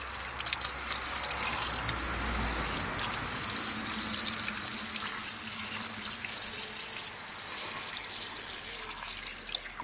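Water runs steadily from a tap to rinse rusty old metal parts after a white vinegar soak, a loud continuous gushing hiss with no pauses.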